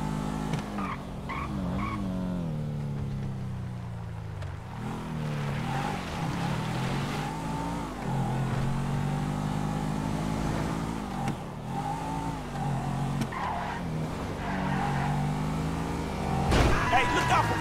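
A car drives in Grand Theft Auto V, its engine note rising and falling steadily with occasional tire skids, while game dialogue and voices talk over it throughout.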